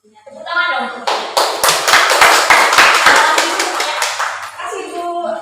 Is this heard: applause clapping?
yes